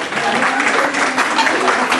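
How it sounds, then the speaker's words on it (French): A crowd applauds the evening's winner at a French first-aid lesson event, a thick, close wash of many hands clapping at once that stays loud and even for the whole short stretch. "Vous pouvez l'applaudir bien fort."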